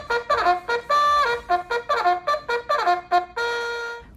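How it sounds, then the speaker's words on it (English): Classroom cleanup bell rung by a student in an art class, a run of bright, quick chiming strikes in short bursts that ends in one longer sustained ring, close and clear, with no voices. "the artist of the day will ring our cleanup bell"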